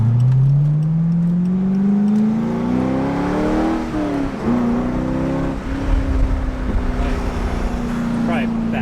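A Chevrolet C5 Corvette's LS V8 revs up and settles with a rising then falling exhaust drone, close and loud, with a few faint crackles as the revs drop.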